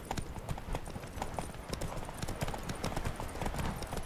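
Hooves of Geralt's horse Roach clip-clop at a steady gallop across a video game landscape, loud and close, with rapid rhythmic beats and a brief whinny-like cue beneath faint game ambience.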